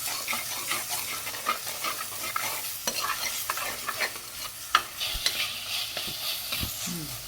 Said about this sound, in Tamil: இப்போ அரைச்சி வச்ச தக்காளி பழம், நல்லா வணங்கி வரட்டு கொஞ்ச நேரம்.